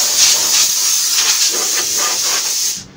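Compressed air blasts sawdust off kitchen cabinet doors and work trestles in an earth-floored shed before spray painting, a loud, close, steady hiss with slight surges that runs nearly three seconds before cutting off abruptly.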